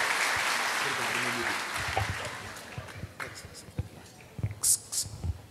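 A church congregation at a praise service claps loudly, the applause thinning out over several seconds into scattered claps and low voices talking.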